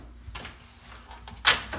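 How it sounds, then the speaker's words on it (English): A door shuts hard indoors during a dramatic scene, ending in a loud sharp bang after a few softer knocks and rustles. "Don't slam the doors."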